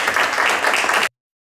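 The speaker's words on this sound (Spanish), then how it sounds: "Vamos a recibirla con un cariñoso y fuerte aplauso." An audience at a human-integration conference in Ourense breaks into dense, sustained applause to welcome a speaker, loud and even before stopping abruptly.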